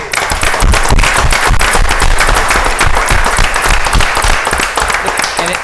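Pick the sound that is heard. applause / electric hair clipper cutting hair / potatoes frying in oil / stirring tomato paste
applause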